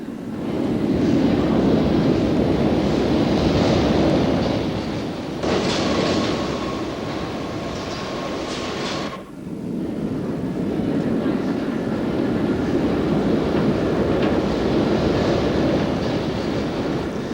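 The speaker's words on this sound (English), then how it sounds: "At Paddington, Circle Line trains in view." London Underground Circle Line trains rumble at Paddington station, a continuous heavy rolling roar with a sharper screeching, whining passage midway before the steady rumble returns.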